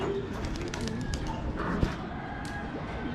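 Racing pigeons coo repeatedly as they return to the loft after a race, soft throaty calls over steady outdoor background noise.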